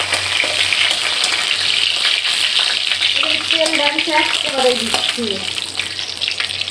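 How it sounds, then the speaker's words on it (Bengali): Two whole chillies crackle and sizzle in hot mustard oil, a steady close frying hiss with sharper spitting pops building midway, over a low hum. "এখানে আমরা সরিষার তেল গরম করে নিয়েছি, এটার মধ্যে দিয়ে দিলাম এরপরে আমরা দিয়ে দিলাম দুটো লঙ্কা গোটা"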